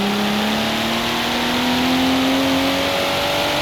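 Recycled six-cylinder car engine from Forza Horizon 4, a steady droning engine note that climbs gradually in pitch as it revs, loud and close with no talking.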